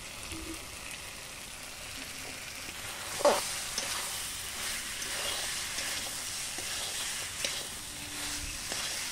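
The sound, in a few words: frying and stirring vegetable curry with spices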